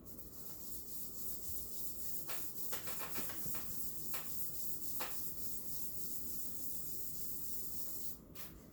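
A guitar finish is dry sanded by hand with 1000-grit sandpaper, giving faint scratchy rubbing strokes in a few quick bursts over a soft steady hiss, with no talking.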